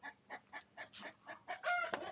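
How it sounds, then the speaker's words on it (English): Chickens cluck in a quick run of short, evenly spaced calls, one bird rising into a louder squawk near the end, fairly close in a quiet outdoor spot with no talking. "Chickens."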